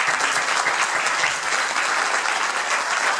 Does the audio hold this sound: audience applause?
yes